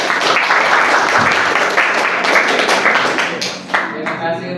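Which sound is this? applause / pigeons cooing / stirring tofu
applause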